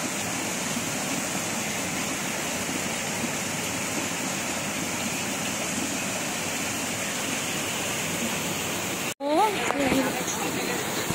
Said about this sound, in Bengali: বাবা খুব জোরে মুষলধারে পানি পড়ছে